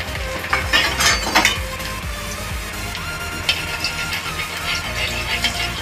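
Garlic and cumin sizzle and fry in hot oil for veg masala momos, with a steady crackle under repeated clinks and scrapes of a spoon stirring the pan.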